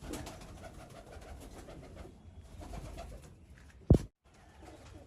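Pet pigeons kept at home coo softly and continuously nearby, a faint low murmur broken by one brief sharp knock near the end.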